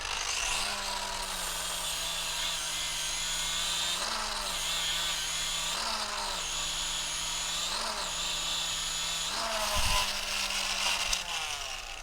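Angle grinder fitted with a Tyrolit Cerabond X unitised disc grinding a stainless steel weld seam at around 9,000 to 11,000 RPM, a steady high whine with brief dips as pressure changes, close and continuous.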